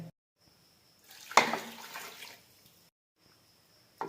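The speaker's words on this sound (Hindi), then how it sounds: "अब इसके अंदर पानी ऐड कर लेंगे" Water is poured into a pot of beef trotters with turmeric for paya, a brief splashing pour of about a second and a half between quiet pauses, with a short splash at the very end.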